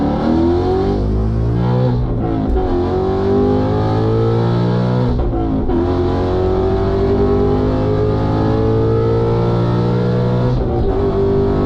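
A straight-piped Mustang lapping the Nürburgring, loud raw exhaust roaring through rising gear pulls with brief dips at the shifts, heard close from inside the car.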